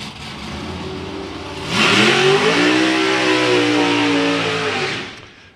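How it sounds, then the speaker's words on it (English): Paul Brown's two-seater dragster, the Thrill Ride, carrying a passenger at a drag racing event, revs loudly and rises sharply in pitch, holding a harsh, roaring engine note for several seconds before easing off. "So it is Paul Brown with the two-seater dragster, the Thrill Ride."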